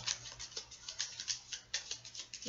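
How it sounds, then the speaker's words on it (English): A deck of tarot cards is shuffled in quick, papery riffles and slaps, a rapid uneven patter of close, soft bursts with no talking. "Okay, one more shuffle."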